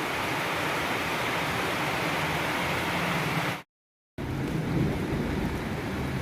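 Heavy, steady evening rain in Kolkata pours down in a dense hiss, interrupted by a brief moment of silence before resuming just as strongly.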